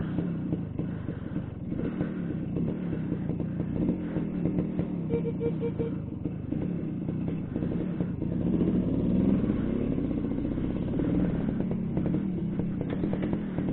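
A small, old two-stroke 1989 Suzuki A100 motorcycle engine runs continuously with a buzzy, rattling putter, close and steady, rising slightly in loudness partway through; no voices.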